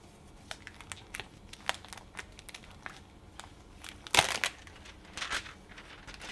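Green Starcraft Electra foil being cut, giving quiet, close crinkling and snipping with scattered sharp clicks and a louder crackling burst near the end, no voices.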